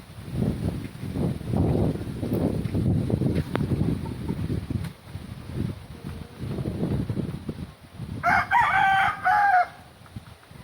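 Low murmuring and clucking fill the first seconds, then a rooster crows loudly and nearby toward the end.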